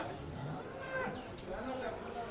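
A faint, low moo from a Rathi cow drawn out at a distance beneath busy livestock market noise, with other animal calls faintly mixed in.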